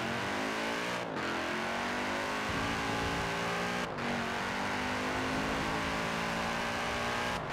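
A car in the Forza Horizon 4 racing game pulls away and accelerates hard, its engine revving steadily upward through the gears with brief dips at each shift, loud and close throughout.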